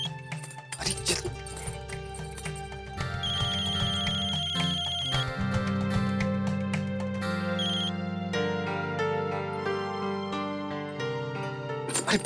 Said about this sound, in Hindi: मोबाइल की इतनी जोर से आवाज तो आ ही रही है।